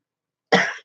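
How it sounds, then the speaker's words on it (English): A single short, sharp cough close to the microphone after a moment of silence. "I don't know why I've started coughing all of a sudden."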